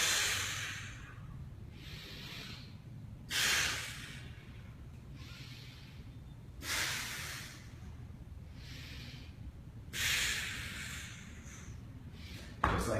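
During an advanced core workout, a person takes three strong, hissing breaths spaced several seconds apart over a low steady room hum.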